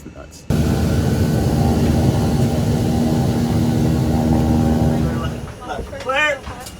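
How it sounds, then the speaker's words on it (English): A propeller aircraft's engines at an airport start with a sudden roar and hold a loud, steady drone with a low hum, then fade as a voice speaks briefly near the end. "We should be able to fire the engines up and get in the air."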